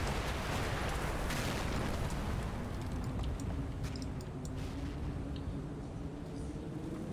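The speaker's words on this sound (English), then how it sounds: "that is a 120mm mortar or a 155" A 120mm or 155mm mortar round explodes with a loud, booming blast at the start, followed by a long rolling rumble that fades slowly, with faint distant crackles afterward and no talking.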